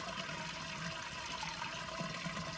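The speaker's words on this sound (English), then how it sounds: "the good news is I am draining my gray water" Gray water drains from an RV tank in a steady, continuous watery rush, like a flush, with no pauses.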